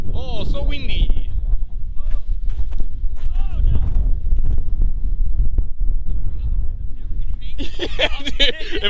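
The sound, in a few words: wind blowing into the microphone outdoors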